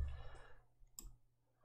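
A single sharp click of a computer key or mouse button during PC software work, fairly faint, following a low hum and a brief breathy noise.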